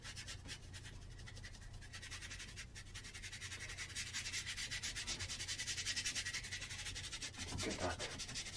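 Brush scrubbing acrylic paint onto a sunset painting, a steady close dry rubbing and scratching that grows slightly louder partway through.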